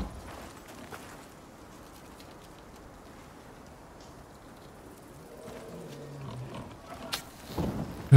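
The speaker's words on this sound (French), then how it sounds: "J'ai cru entendre un bruit d'ours." A bear in the survival video game Icarus gives low, rough growls that grow louder toward the end, mixed with rustling game ambience and no clear speech.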